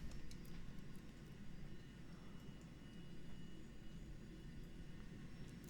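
A Flysimware Falcon 50 business jet rolls for takeoff in the Prepar3D flight simulator, its engines a steady, broad roar that holds level throughout with no talk over it.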